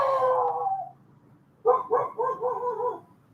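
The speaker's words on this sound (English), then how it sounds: "It's my dog talking to another dog, kind of aggressively." A dog barks aggressively at another dog: one long howling yowl, then a pause, then a quick run of four or five gruff barks, close and loud.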